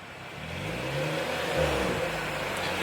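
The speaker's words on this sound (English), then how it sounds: "Now the exhaust isn't that loud, it's the pop." A BMW F32 with a straight-pipe exhaust and Vibrant resonator revs steadily up close with a low rumbling exhaust, continuous and loud throughout, no distinct pops standing out.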